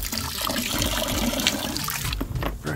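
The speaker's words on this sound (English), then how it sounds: "Fresh water going in to the boat" Fresh water runs steadily into a sailboat's plumbing, a continuous gurgling, rushing flow at close range with a brief change in tone near the end, and no voices over it.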